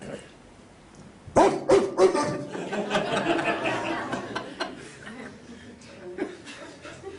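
A man imitates a dog barking loudly with his voice, a burst of gruff, bark-like shouts that start suddenly and trail into laughter-like vocal noise, all close and fairly loud.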